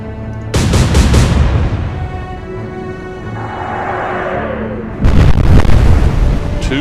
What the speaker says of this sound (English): Another massive explosion on Graf Spee.